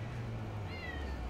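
A cat in GTA V gives a single short meow, thin and fairly faint, over a steady low game hum with no talking.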